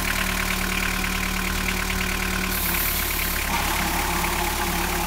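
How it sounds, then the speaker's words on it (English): Blastcrete Dampcon gunite rig with a hydraulic rotor running, a loud, steady mechanical engine drone with a faint rhythmic knock that continues throughout. "simply put the gunite machine on"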